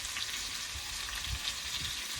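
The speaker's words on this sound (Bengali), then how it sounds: "এরপরে ভাজা বাটা মশলাটা দিয়ে দেবো।" Onion, garlic, ginger and chili spice paste sizzles steadily in hot oil with potatoes and tomatoes while cooking a soybean curry, a continuous close frying hiss with faint stirring and no talk.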